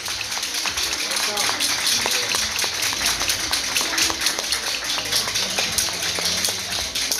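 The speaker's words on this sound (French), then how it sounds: "Applaudissez pour la renaissance." An audience claps and applauds steadily throughout, a dense patter of many hands close by, with no voices over it.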